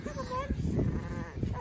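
A sheep on a farm bleats briefly with a wavering cry while people talk over it nearby.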